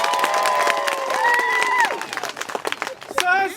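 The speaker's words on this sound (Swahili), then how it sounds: "piga makofi." A crowd at an outdoor public meeting in Rwinyana, Ngara claps in a dense patter of applause, while voices call out and shout over it.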